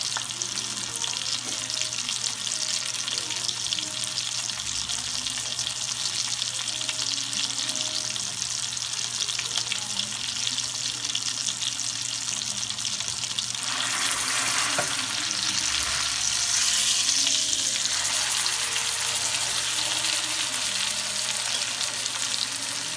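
Meat sears in a very hot pan with vegetable oil for a pot roast, giving a steady frying sizzle throughout with a brief burst of louder crackle in the middle, no talking.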